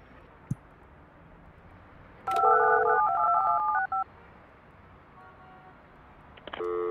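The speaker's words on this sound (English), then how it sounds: "Phone." Telephone keypad dialing tones in the building-management video game Project Highrise, a quick sequence of clear beeping touch-tones after a faint click, followed by quieter tones and a ringing burst at the end, with no talk.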